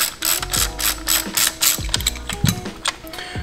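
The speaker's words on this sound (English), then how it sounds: "there are a couple little T20s that we need to remove, one on each side. So go ahead and unscrew those." A ratchet clicks rapidly in repeated back-and-forth strokes while unscrewing small T20 screws from BMW steering wheel trim, close and crisp, steady rhythmic ticking with brief pauses and no talk.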